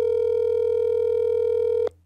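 A steady telephone ringback tone inside Garry's Mod, one continuous electronic hum held for almost two seconds before cutting off abruptly, loud and alone with no talk.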